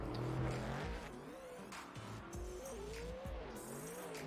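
A BMW drift car at a drift competition battle swings through its run with a rising and falling engine note and long squealing tire skids, heard from a distance and fairly faint.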